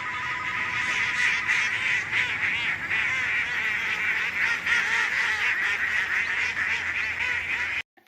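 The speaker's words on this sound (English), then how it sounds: "a family of ducks is like flying overhead" A family of ducks flies overhead, quacking and honking steadily for about eight seconds. The calls are loud and overlapping, then cut off abruptly at the end.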